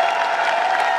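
Audience at a company product launch event claps briefly, a loud, close burst of massed applause lasting about a second.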